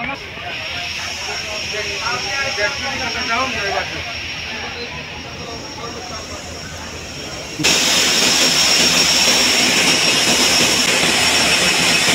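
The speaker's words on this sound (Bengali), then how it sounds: "এক লঞ্চ বেশ ভালো স্পিডে সামনের দিকে এগিয়ে যাচ্ছে।" Engine of the Dhulia 1 passenger launch pushing ahead at speed on a river trip from Dhaka: a loud, steady broadband roar with hiss that jumps to a fuller, louder level partway through.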